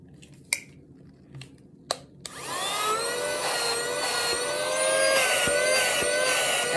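A handheld vacuum cleaner with an attachment fitted switches on after a few clicks and handling knocks, then runs with a loud, steady whining motor drone that rises slightly in pitch and continues close up to the end.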